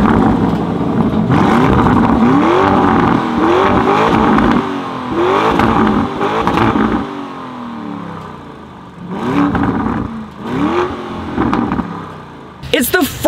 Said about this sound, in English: I have never heard anything like this, and I may dare say it's the best sounding SUV in the world